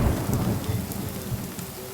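Heavy rain pours down during a safari, with a dense steady hiss and low rumbling, a few louder drops standing out, with no voices.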